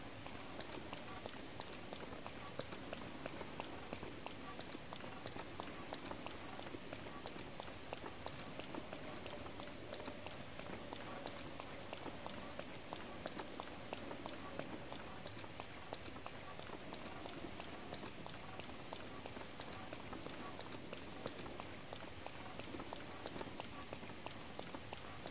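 Rain falls steadily in The Legend of Zelda: Breath of the Wild, a dense, even hiss of drops on surfaces that stays at a constant soft level throughout without pause.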